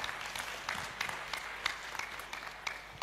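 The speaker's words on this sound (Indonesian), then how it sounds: "Tepuk tangan buat kita semua." Scattered, fairly faint clapping from staff gathered at an annual company outing away from the plantation, with uneven individual claps rather than a full ovation.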